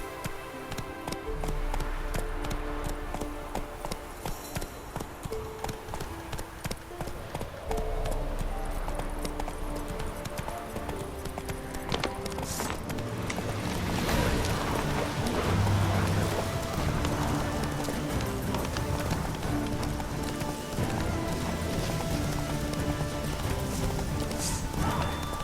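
Roach the horse gallops in The Witcher 3 with a steady, rapid clip-clop of hooves over a layered game soundscape, the hoofbeats continuing throughout, with a brief whinny and faint background voices.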